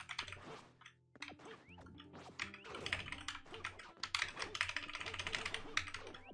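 Computer keyboard and mouse clicks during a Super Smash Flash 2 match, rapid irregular clattering keystrokes close up and moderately loud, mixed with game sound effects and music, with brief talk in between.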